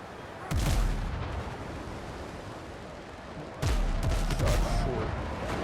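Two booming cannon shots ring out in a sailing video game, one near the start and another about three seconds later, each a sharp blast trailing into a rumbling tail over steady sea and wind ambience.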